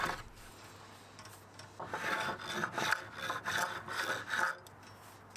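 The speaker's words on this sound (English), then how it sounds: "I eased over the sharp edges at the bottom of the trim with my block plane too" Repeated rasping strokes of a block plane easing the sharp edges of wooden table trim, close and fairly quiet, each pass a short scraping swish in an uneven rhythm.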